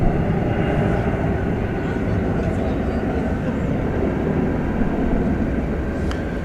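A United Boeing 737 MAX 9 jet, seven years old, rumbles steadily at DFW airport as a broad, even roar that holds at a constant level throughout, with faint chatter mixed in.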